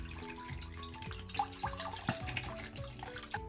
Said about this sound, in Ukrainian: а поки що іншу миску заповнюю крижаною водою